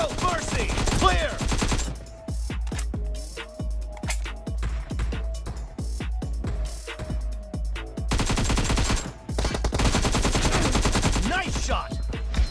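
Rapid bursts of gunfire from a mobile shooting game played on a Xiaomi Poco M3 phone, sharp repeated cracks in dense volleys with brief gaps, loud and close, with a short game voice line early on.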